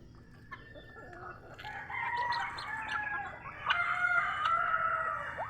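Several native chickens cluck and squawk together at feeding time in a lively, continuous chorus, close by, with a rooster-like crow rising partway through.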